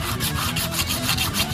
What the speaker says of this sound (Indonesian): sebelum kita las, kita amplas dulu